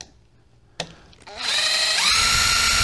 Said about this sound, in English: And we'll take the screws out of this one.